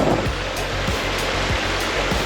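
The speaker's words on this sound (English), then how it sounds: "The trail is crossing over the river here." River water rushing past a hiking trail crossing in Acadia National Park, a loud, continuous, close roar of flowing water with no voices.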